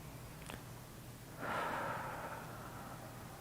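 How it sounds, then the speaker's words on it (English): A single slow, soft breath during a yoga back stretch, a faint airy exhale swelling then fading over low room hiss, quiet with no talk. "And breathe."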